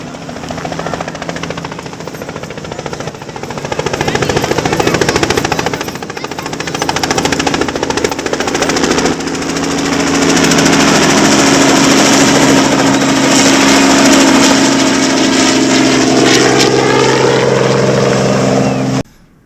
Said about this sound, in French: Les hélicoptères sont en train de lâcher des bonbons au bout de la piste.